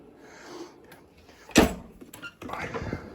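Kitchen drawers in a 2026 Newell P50 motorhome sliding open and shut, heard nearby as a few soft glides and one sharper thump, fairly quiet.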